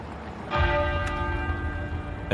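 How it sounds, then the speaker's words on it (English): The great tenor bell of Westminster Abbey strikes once and tolls, its loud, sustained ring filling the space with long-decaying overtones that hang on after the initial clang. "the great tenor bell at Westminster Abbey began to toll"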